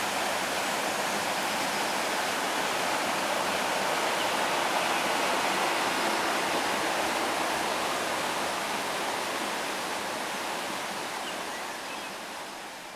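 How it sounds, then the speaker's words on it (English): Water pours through the sluice of an old mill pond beside a canal as a broad, steady roar, loud and close, easing slightly toward the end, with no voices. "An old mill pond with its sluice."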